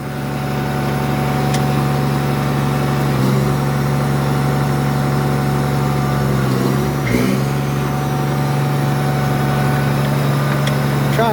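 An abandoned Case 4490 tractor runs at a steady, heavy idle with a low, constant engine drone and a few brief clunks, close by and with no talk.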